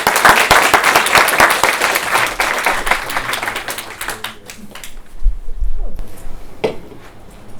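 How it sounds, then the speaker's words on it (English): Audience applause at an academic talk, a burst of distinct close claps that thins out after a few seconds, leaving scattered isolated claps and quiet room noise. "Let's extend a warm round of applause"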